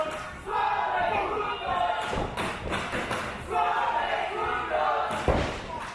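A wrestling arena crowd shouts and chants during a match, loud and continuous with rising bursts, mixed with thuds from the ring and some voices over the noise.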